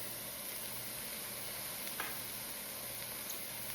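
Lean ground turkey with diced onion and garlic browning in a hot pan, giving a steady, even sizzle and hiss throughout, with a faint stir or scrape partway through.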